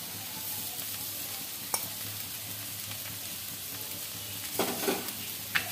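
Potato filling for singara with coriander leaves sizzles softly in a pan, a steady frying hiss broken by a few scraping stirs of a spoon, close and quiet with no talk.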